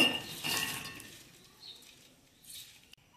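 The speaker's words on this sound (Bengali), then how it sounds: "তো এখন আমি ছোলা সবুজ মুগটা দিয়ে দেব" Soaked chickpeas and green mung beans are tipped into a bowl, giving a brief clattering rattle of small hard pulses against the dish, followed by quieter clinks.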